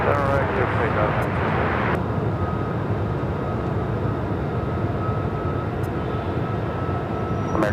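A Southwest Airlines Boeing 737 MAX 8 takes off at Phoenix airport, its jet engines producing a loud, continuous broadband roar that holds steady throughout, with a voice talking over it.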